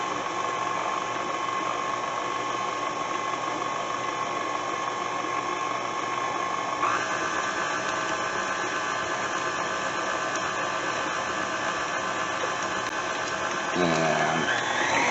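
A kitchen stand mixer runs on slow speed, kneading dough until it forms a ball that pulls away from the bowl's sides. It gives a steady, droning motor hum that shifts slightly midway and changes briefly near the end.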